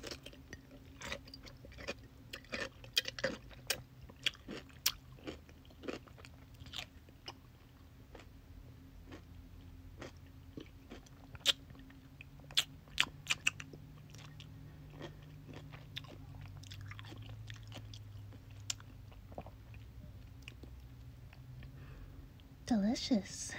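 Pickles being bitten and chewed close to the microphone in a quiet room, a run of crisp crunches and wet chews spaced irregularly throughout, with a soft voice speaking at moments.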